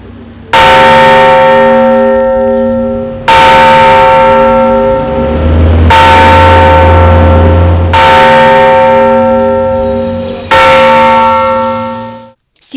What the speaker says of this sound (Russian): звучал поминальный звон